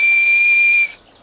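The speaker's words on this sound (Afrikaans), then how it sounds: "Ek het net nou gefluit." A person whistles a single loud, sustained, steady high note for just under a second, which then stops and leaves a faint hiss.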